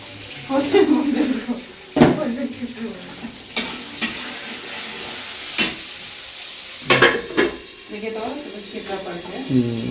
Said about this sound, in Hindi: इतना थोड़ा सा मछली फ्राई करने में इतना छिट्टा पड़ रहा है